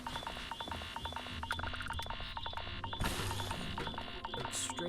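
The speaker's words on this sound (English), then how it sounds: "That's why we had the double beeps" Warning double beeps from the Starfield video game, signalling extreme solar and corrosive liquid rain hazards; short tonal beeps repeat in pairs over a dense, steady game soundscape with no speech.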